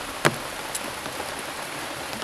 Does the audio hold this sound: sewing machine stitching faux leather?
no